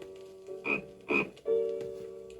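Frog croaking as a storybook-record sound effect: three loud, deep croaks with a bright rasp, the last held longer, then a short burst at the end.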